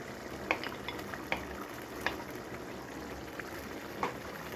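Beef being stirred into a simmering Ghanaian beef stew sauce, with soft scraping clinks of a spoon against the pot recurring at about one-second intervals over a steady low sizzle.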